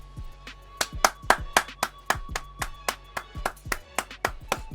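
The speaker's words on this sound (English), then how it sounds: "the approval clap" A single person claps hands repeatedly in approval, a fast run of sharp, close, loud claps in slightly uneven rhythm.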